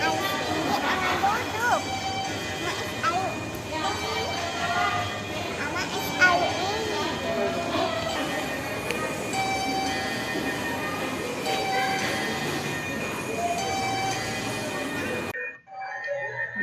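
A train rolls past a station platform with a continuous rumbling roar, clanking and squealing wheels, and faint bell-like tones, while people talk nearby; the sound cuts off abruptly near the end.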